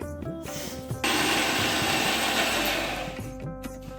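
A kitchen blender grinds soaked parboiled and sun-dried rice into a paste: a loud, continuous whirring roar that starts abruptly, runs steady for a few seconds, then winds down. Voices are heard briefly before it starts.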